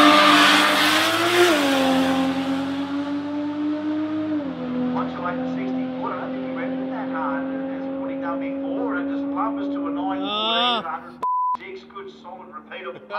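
A Holden Cresta drag car tearing down the strip at Willowbank, its engine a loud sustained roar that climbs through gear changes before a final squeal and an abrupt cut, with a short beep right after.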